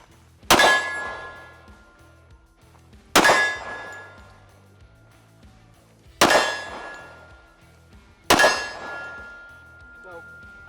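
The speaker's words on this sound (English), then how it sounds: "I'm just going to be engaging some steel at 10, 12 yards" FN Herstal FNX 45 pistol rounds strike steel targets about 10 to 12 yards away, giving four sharp metallic clangs spaced a few seconds apart, each ringing out and fading before the next.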